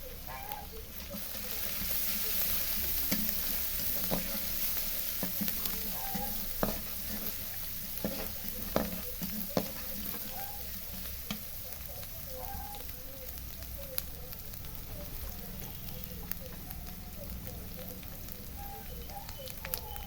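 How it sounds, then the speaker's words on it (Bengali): Shrimp and plantain being sautéed with turmeric and salt, with a soft, steady sizzle and intermittent scraping stir clicks close by. "এখন সুন্দরভাবে কষায় নেব"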